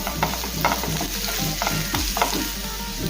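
Onion, green chilli and fresh curry leaves fry in hot oil in a pan, a steady close sizzle broken by repeated scraping stirs of the spatula at irregular intervals.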